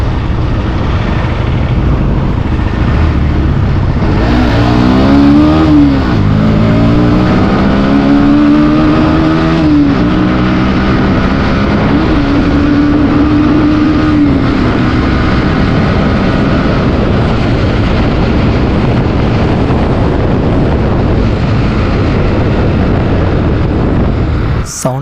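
A Bajaj Pulsar NS 125 motorcycle engine and exhaust drone steadily and loudly for about 25 seconds, with rising and falling revs around the five- to fifteen-second mark.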